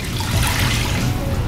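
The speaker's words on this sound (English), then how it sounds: "And then pour in the rest of your water." Water pours into a saucepan of tonkatsu sauce mixture, a steady rushing splash that runs unbroken and fairly loud throughout, with no talking.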